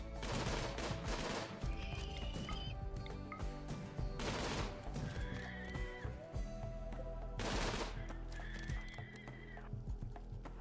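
Gunfire in the video game RimWorld: a few loud bursts of shots, spaced a few seconds apart, each followed by a thin whistling tone, over steady low background noise.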